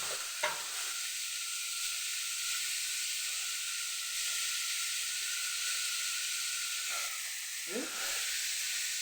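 Onion sautés with salt in a pan for an egg fry, giving a steady close sizzle and hiss with a few short scraping stirs near the start and end.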